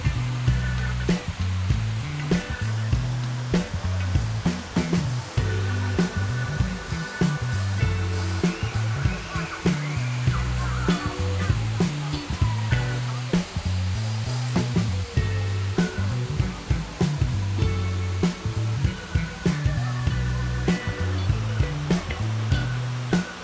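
Hinulugang Taktak waterfall in Antipolo roars continuously, a broad steady rush of falling water that fills the scene, with faint background activity and no clear speech.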